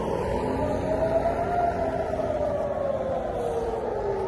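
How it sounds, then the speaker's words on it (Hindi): Air raid siren wailing across Tel Aviv during a missile alert, a steady rising and slowly falling tone that sounds moderately distant over a constant background hum. "इस वक्त जो है सायरन बज गई है"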